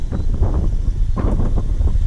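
Gusting wind buffets a microphone outdoors, a constant loud roar with swells and rustling as the breeze picks up.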